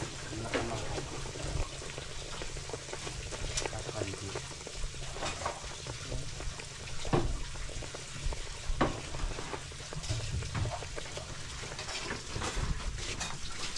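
Crab and grouper frying in a pan, a continuous dense sizzle with occasional crackles and stirring clatter, moderately close and steady throughout.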